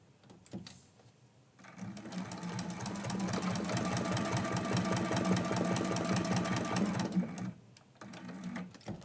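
A sewing machine stitches through Heat and Bond fusible backing in one continuous, close, loud run of rapid needle strokes lasting several seconds, framed by brief handling noises before and after.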